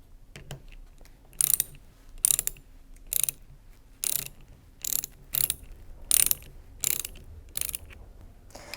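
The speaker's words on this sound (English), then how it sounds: "Remember, don't stop until all bolts are firmly tightened." A ratchet tightens Torx T40 bolts on a Karcher K4 pressure washer motor, giving repeated crisp clicking bursts in a steady back-and-forth rhythm. The clicks are close and fairly quiet, with no talking.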